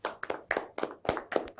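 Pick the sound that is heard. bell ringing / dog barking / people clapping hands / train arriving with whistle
people clapping hands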